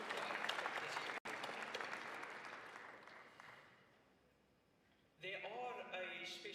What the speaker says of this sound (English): let's give yourself a hand of applause for how beautiful you look like this evening